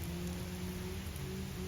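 Heavy rain falls steadily outside, a dense, unbroken hiss of drops hitting surfaces, with a faint low hum underneath and no talking.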